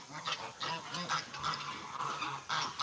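Small ducks kept in a large kennel at an animal sanctuary give repeated short quacks and honks close by, in quick irregular bursts throughout.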